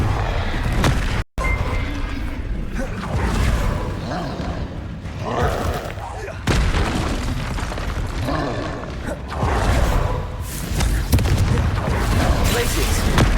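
Booming spell blasts and crackling impacts from Confringo and other combat spells in the video game Hogwarts Legacy, dense and loud throughout with brief cut-outs, as a voice talks and calls out over the battle.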